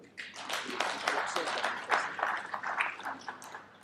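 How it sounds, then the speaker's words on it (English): Applause from an audience at a press event with Ban Ki-moon, a steady patter of many hands clapping, moderately distant and fairly soft, with no talk over it. "We should all clap for them."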